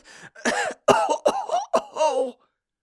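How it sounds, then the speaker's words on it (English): A series of five harsh, rasping coughs in quick succession, close and loud, each a short burst with brief gaps between. "The figure stopped to cough long and hard"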